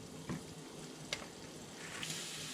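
Garlic scapes sauté in a pan with a steady soft sizzle, faint and close, broken by a few light clatters of stirring and no talking.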